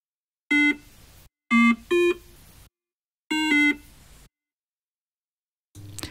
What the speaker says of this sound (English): This is a plugin called Plogue Chip Sounds, which I use for many of the sounds in this.